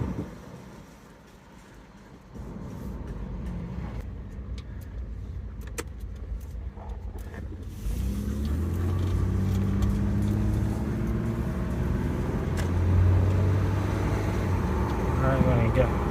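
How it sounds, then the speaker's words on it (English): A Mitsubishi Montero drives with fresh OEM remanufactured front brake calipers, a steady road and engine rumble that swells after a quieter start, with a brief rattling jingle inside the cabin and talk over it. "when I started feeling when I brake before, it would steer to one side"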